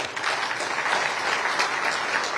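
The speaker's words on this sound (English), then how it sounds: "deserves a clap of hands, I'm sure." A short burst of dense applause from a conference audience at an international commons-study gathering, steady and fairly close throughout.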